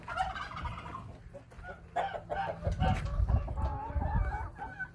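Several chickens, including Americanas, cluck and squawk close by in uneven bursts, with low rustling underneath.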